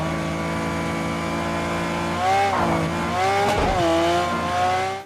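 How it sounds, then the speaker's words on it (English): Race cars in the video game Project Cars 2 roar past with loud, sustained engine tones that climb and sweep in pitch as they accelerate, ending in a brief rush as one passes close. "Why bother going out to race real cars when you can just play this game?"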